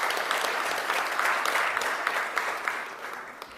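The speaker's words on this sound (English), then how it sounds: "a big applause to our Italian partners" At an FAO presentation on agricultural innovation, a conference audience applauds the Italian partners with continuous, fairly close clapping that holds steady and thins slightly toward the end.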